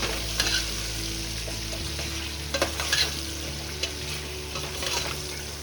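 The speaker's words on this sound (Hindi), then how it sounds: "अब आप उसको गोश्त को इन मसालों के साथ फ्राई करना शुरू करें।" Beef frying with spices in a pot for a beef yakhni pulao gives a close, steady sizzle, broken by a few scraping stirs of a spoon, with no talking.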